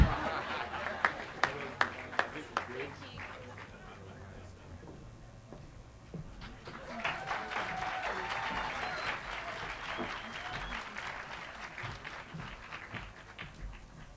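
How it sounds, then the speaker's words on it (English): Audience applause at a UNDP Timbuktoo and UJ UniPod launch event: a few sharp separate claps first, a quieter lull, then a fuller round of clapping from the crowd building and continuing, with some voices underneath. "Can I just ask for another round of applause for our fantastic young entrepreneurs?"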